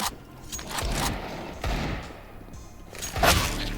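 Gunfire in the online shooter Counter-Strike 2, with several sharp gunshot bursts and thuds spread across a few seconds, the loudest near the end, amid game noise and a voice.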